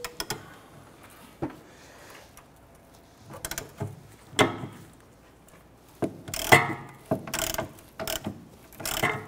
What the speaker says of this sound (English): we're gonna put our socket and ratchet up on the nut side